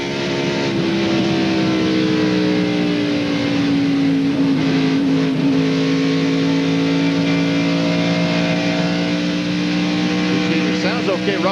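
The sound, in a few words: NASCAR race car engine running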